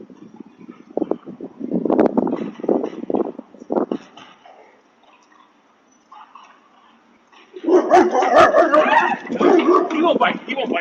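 A dog barks and yips outdoors in short bursts, loud and close, first in a quick series and then in a denser flurry, with people talking around it.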